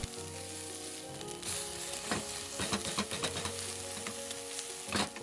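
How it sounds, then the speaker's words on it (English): Seafood shells crackle and sizzle steadily in hot oil in a pan, with scattered louder pops and spatters throughout. "These are full of flavour that's enhanced by frying in oil"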